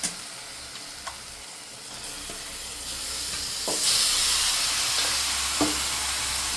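Washed chicken pieces go into a hot pan of ginger-garlic paste, raising a loud, continuous sizzling hiss that swells in steps as more is added, with a few light stirring knocks and no talk.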